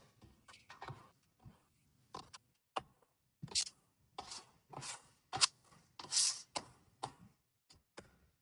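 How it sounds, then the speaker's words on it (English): Utensil scraping a mixing bowl while cooking chili, a string of short, separate scrapes and clicks with pauses between them, close and fairly quiet. "And now I just scrape the bowl."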